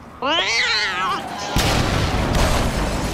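A cat gives a drawn-out, wavering meow at close range, followed by a sudden loud broadband burst that lingers as noisy rumble to the end.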